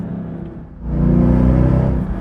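A Mercedes-AMG E63 W212 sedan drives with its engine note swelling as it accelerates after a brief dip, a loud, close, steady roar with no talking.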